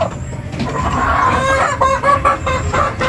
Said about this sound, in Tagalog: Papakain tayo ng mga alaga ko mga kamanok.